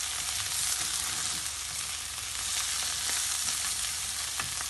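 Onions sizzle and crackle steadily in a hot pan while frying for a meat and eggplant dish, with occasional scraping from stirring, close and loud, no talking.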